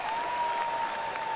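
A stadium crowd at a San Diego Padres home game against the Cincinnati Reds roars and applauds steadily throughout, a dense, sustained wash of cheering with a faint whistle-like tone running beneath it.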